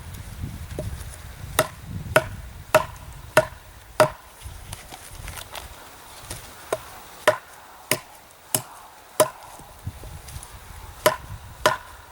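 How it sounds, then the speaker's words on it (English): A Kubey Sicario D2 steel survival knife chops frozen wood outdoors in winter snow, giving a series of sharp, distinct woody impacts at an irregular pace, roughly a dozen close strikes with quiet gaps between. "It's actually chopping through this fairly well."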